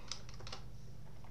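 Quiet typing on a computer keyboard, a brief cluster of four or five soft key clicks followed by faint background hum.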